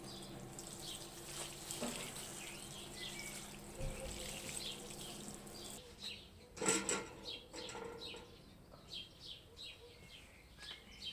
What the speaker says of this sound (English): all I've got left to do now, since it is in a bucket, is give it a good water